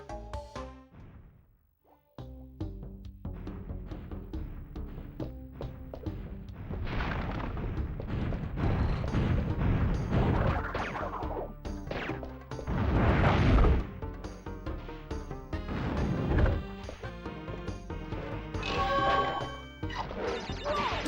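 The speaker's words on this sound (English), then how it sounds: "Oh, bombs." Bombs and crates blowing up in Crash Bandicoot 3, a dense run of sharp crashes and booming blasts layered over steady game music, loud and close, with no talking.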